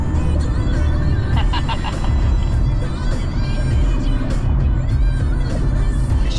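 A Mercedes car engine hums at part throttle while driving in traffic, a loud, steady low drone close by with some road noise.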